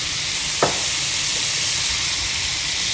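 Olive oil and butter sizzle steadily in a hot pan over medium heat, a close, even hiss that holds for the whole stretch, with one brief clink near the start.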